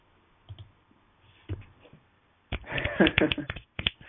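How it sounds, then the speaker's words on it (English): Finger snaps from a man snapping his fingers, a few soft isolated clicks early on, then a denser burst of sharper snaps mixed with other noise near the end. "I'm snapping my fingers."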